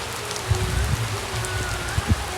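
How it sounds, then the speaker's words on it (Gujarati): Sudden rain falls during an outdoor procession, a steady broadband patter with a few louder drop hits and low rumbling underneath, no voices. "અચાનક વરસાદ"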